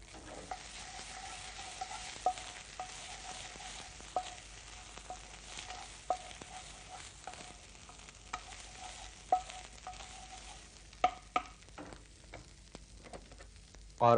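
Onion, green chili and ginger-garlic paste sauté in a pan, a steady low frying sizzle under repeated sharp clicks of a spoon stirring and scraping, close and with no talk.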